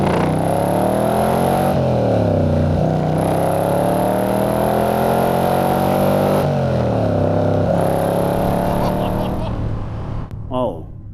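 A DeTomaso Pantera GT5 engine accelerates hard through the gears, loud and close, with rising revs broken by two shift dips before easing off near the end. A voice talks over parts of it.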